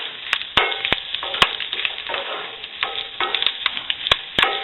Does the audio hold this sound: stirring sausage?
yes